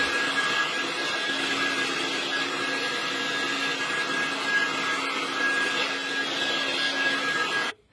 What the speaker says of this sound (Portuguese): vamos secar um pouco o meu cabelo com o secador